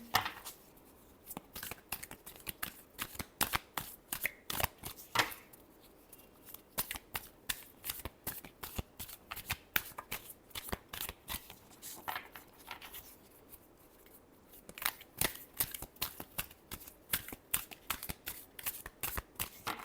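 A deck of cards is shuffled over and over at close range, producing rapid crisp riffles and flicks in quick repeated bursts with brief pauses between rounds.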